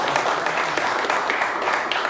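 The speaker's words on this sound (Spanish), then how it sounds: "Vamos a darle fuerte el aplauso para él también." Applause from the crowd at a 2011 home run derby in Coamo, greeting a guest: a steady, dense wash of clapping for about two seconds, fairly loud and continuous.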